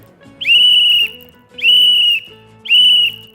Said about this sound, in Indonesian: Bunyi peluit itu prit, prit, prit.